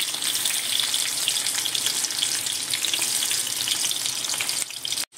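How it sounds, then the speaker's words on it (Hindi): Onions frying in a flat Chinese kadhai, giving a steady, loud broadband sizzle that runs evenly without talk and cuts off abruptly near the end. "सबसे पहले भून लेंगे प्याज हमारे अच्छे से।"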